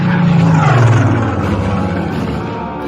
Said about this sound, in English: The aircraft was a Spitfire, flown by Flight Lieutenant Tony Hill